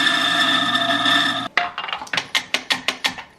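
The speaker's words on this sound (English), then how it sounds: "these are like a food safe cleaner that you just put through your grinder" A coffee grinder grinding food-safe cleaning tablets: a steady loud motor whir for about a second and a half, then a run of sharp, rhythmic crunching rasps close up.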